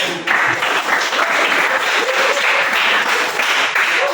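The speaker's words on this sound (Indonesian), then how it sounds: "Sekali lagi tepuk tangan untuk kelompok 1" Steady, dense applause from a classroom group of students for group 1 after its presentation, filling the whole stretch at an even, moderately loud level with no talk over it.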